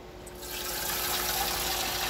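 Steady stream of water pouring into a pot for cooking pancit, a continuous rushing splash that grows slightly fuller over about two seconds.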